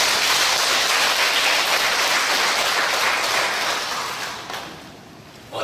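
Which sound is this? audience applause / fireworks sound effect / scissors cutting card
audience applause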